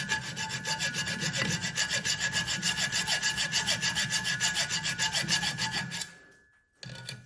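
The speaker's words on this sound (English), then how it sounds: "I've got about the dullest hacksaw in the world over here in this shop, so I am just clawing my way through the last bit of this" Slow, rhythmic rasping strokes of a dull hacksaw clawing through a metal part in a shop during a Caterpillar D3B bulldozer restoration, steady and close, then stopping abruptly near the end.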